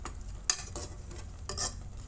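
Light scraping and clinks of a utensil stirring noodles and sardines in a pan, two brief strokes over a faint sizzling background, close by.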